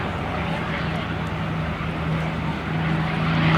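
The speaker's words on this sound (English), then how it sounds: "we just listen here to the sound of the Mustang taking off" A P-51 Mustang with its Merlin engine takes off at a RAAF airshow at Edinburgh, South Australia. A steady droning engine with a low hum rises slightly toward the end.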